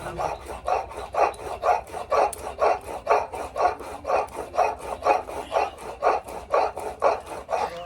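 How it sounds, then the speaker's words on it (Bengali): Poppy seeds ground on a stone grinding slab, a close rhythmic rasping scrape repeating about twice a second in steady back-and-forth strokes, alone without talk. "আজকে একদম ফটাফট করে পোস্তটা বেটে নিলাম"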